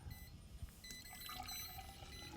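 Liquid pours in a soft, continuous trickle, quiet and close, with no voices.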